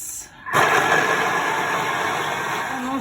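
Thermomix food processor blending houmous at speed 6, a loud steady motor whir with grinding texture that starts abruptly after a brief quiet moment and runs continuously close by.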